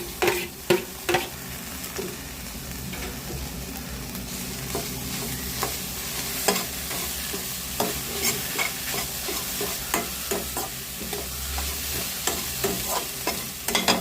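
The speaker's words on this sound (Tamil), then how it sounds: "இப்போ வெங்காயம் ஓரளவு வதங்கிட்டுருக்குங்க வாழைக்காய் புதுசாக போட்டுக்கலாம்" Onions and raw banana sautéing in a pan, a continuous close sizzle punctuated by regular, distinct scrapes and knocks of a spoon stirring against the pan, with no voices.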